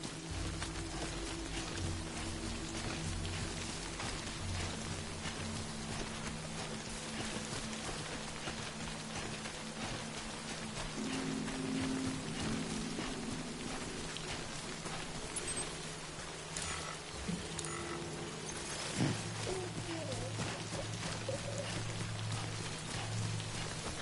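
Steady rain from the video game Death Stranding, a dense, even hiss of falling drops over low sustained tones, continuing without a break for the whole stretch.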